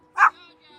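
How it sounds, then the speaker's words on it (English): A small dog gives a single sharp yip-like bark outdoors, close and loud, followed by faint background sound. "Oh, little barky dog."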